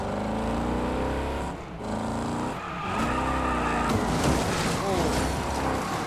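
A car engine roars at full throttle in Wreckfest 2, a scrapyard demolition race, loud and continuous with rising and falling revs, gear shifts and tire noise, someone talking over it.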